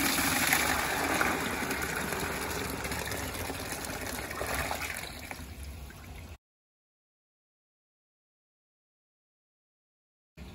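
Rinse water draining from beneath the boiler of a distillation unit, a continuous close gushing and splashing flow lasting about six seconds before cutting to silence.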